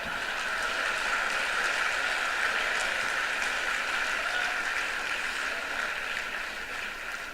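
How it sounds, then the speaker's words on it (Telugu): An audience at a Telugu spiritual discourse breaks into sustained applause, a dense, even roar of clapping that holds steady throughout and tapers off slightly at the close. "ఇన్ని చప్పట్లు మోగాయంటే"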